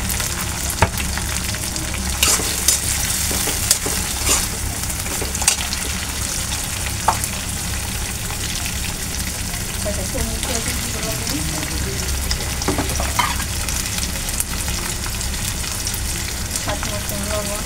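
Shrimp and onion fry in a pan with a loud, close, steady sizzle, broken by scattered utensil scrapes and knocks as the food is stirred.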